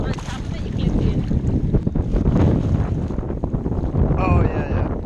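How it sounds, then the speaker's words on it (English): Wind buffets a GoPro microphone during a swim near Managaha Island, Saipan, a loud continuous rumbling roar with water splashing and brief voices mixed in. "The wind."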